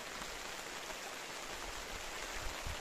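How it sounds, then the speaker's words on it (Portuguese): Steady rain falling during cold weather on a fishing outing at the Paraibuna reservoir, a continuous close hiss of drops on surfaces with no voices. "Frio, uns 20 graus, com chuva."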